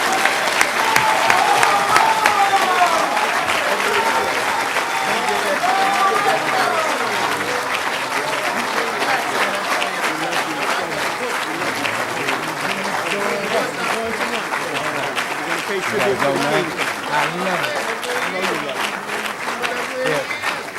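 Sustained audience applause for Minister Louis Farrakhan at a speaking event in Savannah, Georgia, a dense, steady wash of clapping lasting about twenty seconds, with a few voices calling out over it.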